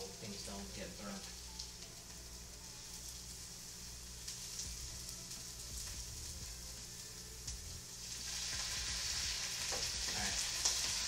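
Shallots frying in a pan give a soft continuous sizzle, growing louder and hissier toward the end; faint and steady with no clear talk.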